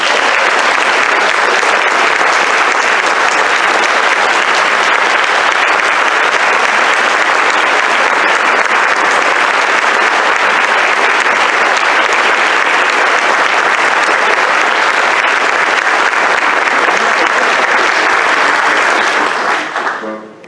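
A theater audience gives sustained, dense applause welcoming Senator George Mitchell, steady and loud for about twenty seconds before tapering off abruptly at the end.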